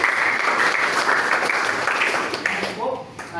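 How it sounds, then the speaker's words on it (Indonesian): Classroom audience applauding for Mas Divaresa during a lesson on artificial intelligence, a dense steady clatter of clapping that thins out near the end as a voice starts speaking over it. "tepuk tangan untuk Mas Divaresa"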